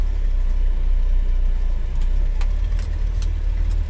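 A 1965 Chevy two-wheel-drive dually truck engine running in snow, a loud continuous low rumble from close by with faint ticks and knocks on top, no talk.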